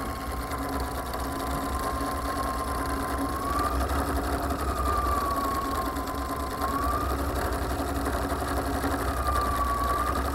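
A home sewing machine stitching a decorative edge on fabric runs in a steady, continuous mechanical whir with a faint rhythmic knock, alone and without talk throughout.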